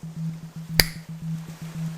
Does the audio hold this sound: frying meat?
no